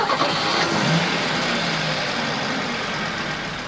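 A car engine turns over and settles into a running idle, loud and close, with a steady mechanical drone that eases slightly as it continues, no voices present.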